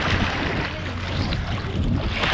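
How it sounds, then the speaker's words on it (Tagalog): Ocean waves wash onto a beach on Boracay island during stormy weather, a dense, continuous roar of surf and wind, close and fairly loud, with no talking. "Naampas na tayo ng mga alon."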